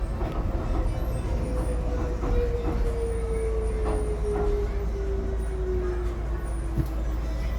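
A Class 321 electric train runs between Canary Wharf and Stratford, a loud continuous rumble with a falling motor whine that drops over several seconds, heard from on board without speech.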